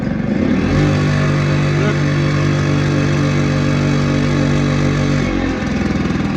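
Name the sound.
Aprilia SR50 scooter engine revving with throttle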